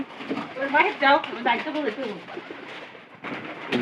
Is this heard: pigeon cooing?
yes